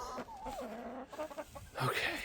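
Backyard chickens and a rooster at feeding time, including Brahma and Wyandotte birds, giving a few close clucks and warbling calls with a brief louder squawk near the end.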